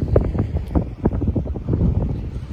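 Strong wind blows across a fishing boat on the water off Galveston, a loud, continuous gusty rumble with buffeting bursts against the microphone and no clear voices.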